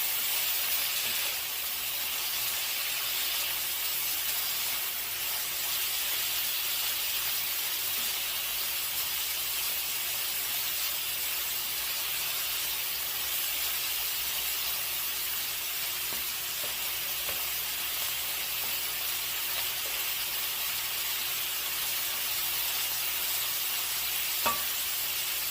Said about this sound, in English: Gotta keep stir frying.